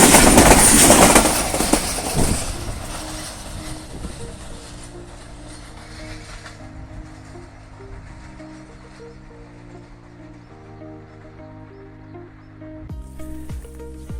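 A Pakistan Railway train, the 102 Down, rumbles past on a rural section, loud and close at first, then fades into rhythmic clanking of wagons over rail joints that carries on steadily before a final rise in noise.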